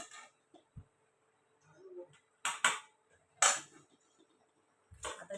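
Pots handled in a home kitchen: a few sparse, sharp metallic clinks and clatters spaced seconds apart, faint against an otherwise quiet room.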